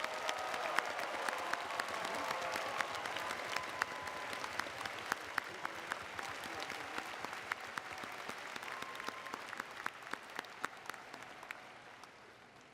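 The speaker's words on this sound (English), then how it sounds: "Please join the Dean in a round of applause for all our doctoral degree recipients." Sustained applause from a commencement audience honoring doctoral degree recipients, dense steady clapping filling the hall for the full length with no speech over it.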